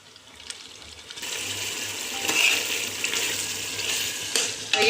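Prawns simmer in masala in a pan for prawn biryani, a soft bubbling sizzle that grows louder after the first second, with a few light stirring clinks, close and steady.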